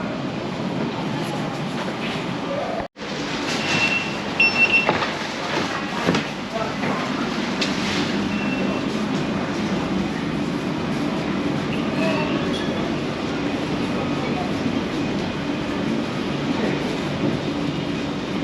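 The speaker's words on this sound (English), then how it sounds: "you got a train leaving the sidings there, and it's heading for, I think, Ruislip Depot" A London Underground Central Line train pulls out of sidings toward Ruislip Depot near Woodford, a steady low rumble and rolling rail noise that persists for the whole stretch, with a brief hiss and squeal of wheels over it.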